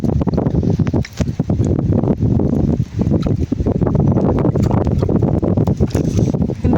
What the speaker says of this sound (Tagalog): makapasok pa rin yung hangin